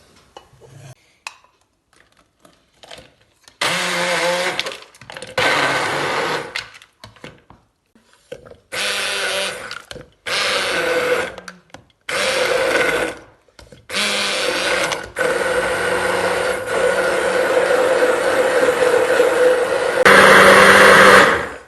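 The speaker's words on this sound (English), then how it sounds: "And now I'm going to start to blend it." An electric blender whirs loudly in repeated bursts of several seconds each, broken by short silent gaps, as it blends mango lassi with cardamom seeds. The final burst runs longer and rises to a higher, stronger whine.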